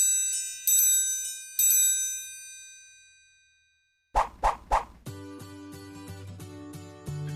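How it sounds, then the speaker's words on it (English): A metal triangle held with two fingers is struck several times, giving bright, sustained shimmering rings that fade slowly, followed by a few hollow knocks and then a busier ringing passage. "Triangle. This instrument has this name due to its shape."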